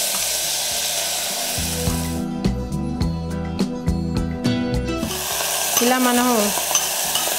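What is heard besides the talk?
frying ingredients in ghee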